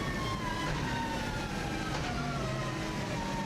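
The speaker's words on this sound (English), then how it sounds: "As you can hear from this car, it does sound amazing, and it's also revving quite a lot higher than the previous car." A high-revving turbocharged race car screams along a TT road course lap at around 8,500 rpm, a loud sustained engine wail with rising and falling pitch as it shifts, heard alone without talk.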